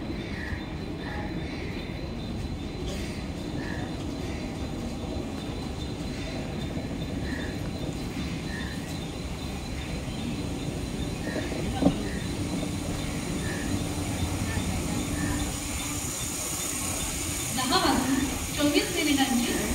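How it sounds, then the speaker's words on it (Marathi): A Mumbai suburban local train standing at a station platform hums and rumbles steadily, with faint repeating tones over it, a sharp clank near the middle and a louder clatter toward the end, as a platform announcement is heard. "प्लेटफॉर्म क्रमांक 1 पर आई हुई लोकल 10:11 की डोंबिवली जाने वाली नीली लोकल है"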